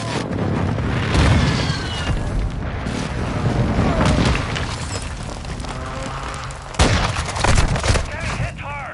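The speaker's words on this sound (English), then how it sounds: "Friendly precision airstrike inbound." Heavy booming blasts and crackling gunfire from a precision airstrike in Modern Warfare 2 fill the battle, with loud impacts near the start and a sharp burst of explosions late, under faint voices.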